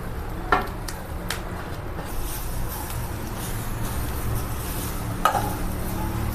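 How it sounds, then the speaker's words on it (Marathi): Grated fresh coconut and milk being stirred in a pan for coconut barfi, a steady soft sizzle with a few sharp spoon scrapes against the pan, close and continuous with no talking. "चांगलं परतून घ्यायचं नारळ हलवत राहायचं म्हणजे डागत नाही"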